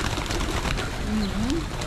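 Pigeons at a skywalk, with one clear low coo rising and falling midway through, over constant city and crowd noise and faint voices.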